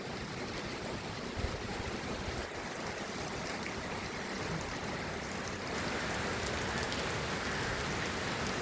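Steady morning rain falling by a riverbank in Udupi, a dense even hiss of drops on surfaces and water, close and constant, growing slightly heavier toward the end, with no voices.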